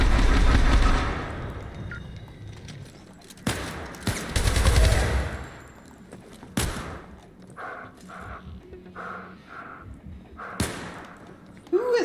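Gunfire in the video game Syndicate, with a dense burst of shots at the start, then scattered loud single shots and thumps later, over quieter game sounds and occasional talk.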